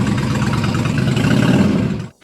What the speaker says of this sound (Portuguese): a Intruder 1400 com seu motor V2 de 45 graus de inclinação